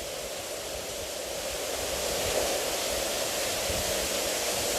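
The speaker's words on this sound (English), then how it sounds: "there's an internal waterfall" An internal waterfall inside an old metal mine gives a loud, steady, broadband roar that fills the enclosed space, unbroken and close throughout.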